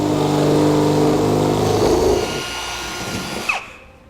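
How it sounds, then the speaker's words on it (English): A power drill with a 1/2 inch bit bores out a hole while installing a B and W Companion sliding 5th wheel hitch on a Ram truck, a loud steady whine that drops off as the motor spins down and stops. "I'm going to come back with a 1/2 inch drill bit and drill the rest of the hole out."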